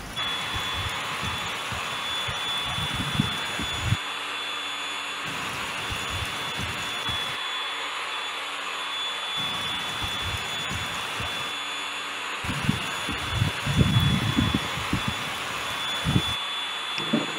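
A steady, loud airplane jet engine roar runs throughout a LEGO stop-motion plane crash, with low rumbling thumps and bursts that swell and fade in the background.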